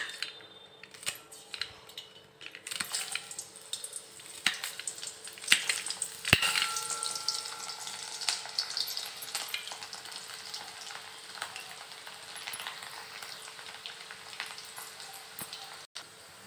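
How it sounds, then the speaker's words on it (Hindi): Finely chopped garlic frying in hot oil for aloo methi, a steady close sizzle with occasional stirring scrapes and small clinks running throughout, no talking. "सबसे पहले हम इसमें बारीक कटा हुआ लहसुन फ्राई करेंगे।"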